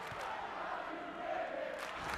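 A packed crowd in a basketball gym at a 2001 Division III men's college game roars steadily and relentlessly, a distant, muffled, sustained wall of cheering with no single voice standing out.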